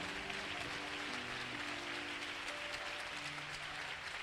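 Church congregation applauding and cheering during a French-language worship service, a steady, dense wash of clapping that fills the room throughout, with sustained tones and voices mixed underneath.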